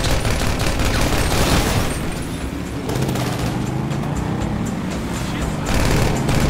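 Sustained gunfire in the video game GTA 5, a loud, dense barrage of shots running for several seconds over steady rumbling game noise and vehicle-like hum, with no clear talk.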